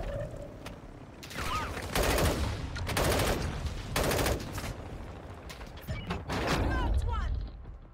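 Automatic gunfire in Call of Duty: Warzone Mobile comes in several loud, rapid bursts separated by short gaps, with mechanical clicks in between.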